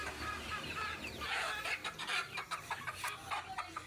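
Several chickens cluck close by in short, scattered bursts, with faint background noise and no talking.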